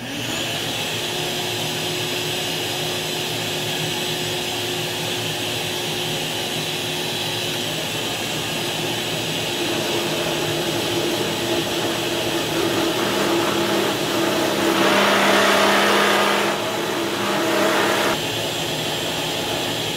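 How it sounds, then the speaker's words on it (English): Vacuum running in a workshop while a Bilbo tobacco pipe is being made, a loud, steady whooshing drone with a constant motor whine that holds for twenty seconds, briefly swelling and roughening near the end. "Okay, I'm gonna have to start the vacuum for this."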